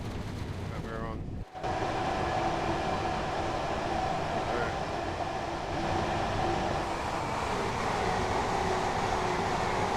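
Heavy 12-carriage commuter train on a London line in the Train Sim World 2 video game, a steady rolling rumble and hum of the running train that continues throughout, with a brief sharp dropout early on.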